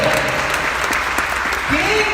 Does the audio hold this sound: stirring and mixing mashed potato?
no